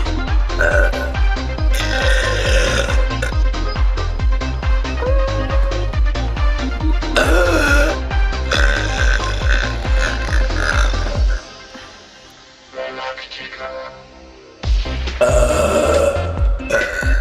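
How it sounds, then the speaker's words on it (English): Loud, long burping sounds, deep croaking belches rolling almost continuously and up close, with a brief quieter gap before the burping surges again. "I realize that I burp a lot in videos, but I mean, who doesn't like a burp?"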